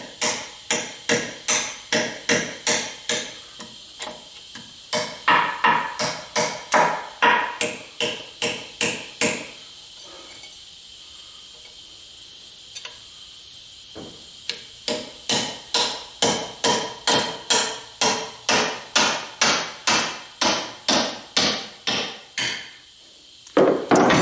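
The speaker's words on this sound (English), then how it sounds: "You've seen me hammer on putty knives in the past to separate gaskets." Rapid metallic hammer strikes on a butter knife driven in to separate a gasket during an engine teardown, ringing out in long rhythmic runs, loud and close, with brief pauses between bursts of blows.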